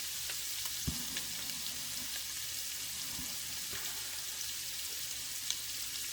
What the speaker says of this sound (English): a green bell pepper, an onion, some celery. I got the Trinity with a little kick in here. So I'm going to cook that until it's just soft